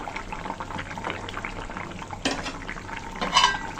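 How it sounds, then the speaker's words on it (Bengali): Pumpkin vadis drop into a thin simmering curry of shing fish with raw banana and potato, giving soft splashes and gentle bubbling with a couple of louder clinks of a utensil against the pot, close and fairly quiet. "এই যে এখন আমি দিয়ে দিচ্ছি কুমড়ো বড়িগুলো।"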